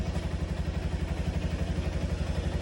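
A Yamaha WR155R motorcycle engine runs at a steady idle, a close, even low-pitched chug that pulses rhythmically throughout without any talking.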